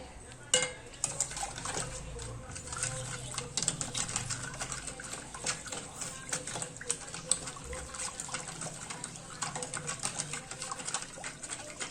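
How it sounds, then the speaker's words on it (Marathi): A salted dahi bhalle mixture is whisked briskly in a bowl, giving a fast, continuous run of light clicking and tapping strokes at close range throughout. "आता याला फेटून घेते छान."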